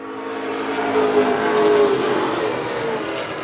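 Pro Stock race cars during a heat race on a track: a loud engine roar holds steady, swelling as cars pass close by before easing slightly, with no voices.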